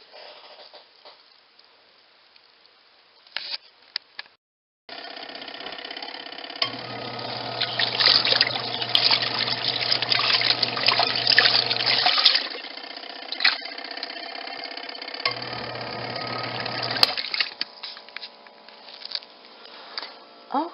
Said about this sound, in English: So I'm going to let that wash for 15 minutes like I did the other one. I'm going to rinse, I'm going to spin